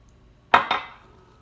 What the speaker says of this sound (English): Let me get a glass of water.